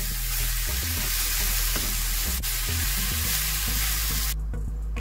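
Sugar and rice stirred together for sweet zarda rice on a low flame, a loud, dense, continuous sizzle with soft scraping stir strokes throughout, cutting off abruptly near the end.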